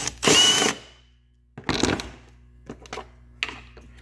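A Milwaukee power tool removes bolts on a 2009 Infiniti G37, heard as a loud whirring burst, a second shorter run, then several brief clicks and taps nearby.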